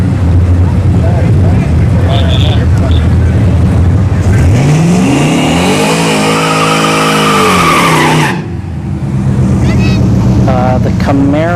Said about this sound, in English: we got the LS S10 and the Camaro SS here on the right lane.